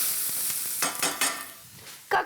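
Onions fry in a pan with tomato paste and ground meat about to be added, a soft crackling sizzle broken by a few stirring scrapes, close and alone without talk.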